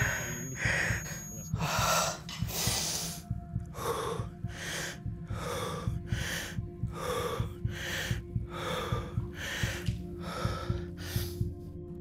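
Heavy, rhythmic breathing from a person recovering after ski training, with repeated loud gasping inhales and snorting exhales close to the microphone over a low steady background hum, about a dozen breaths with no talking.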